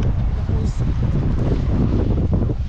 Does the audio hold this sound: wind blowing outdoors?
yes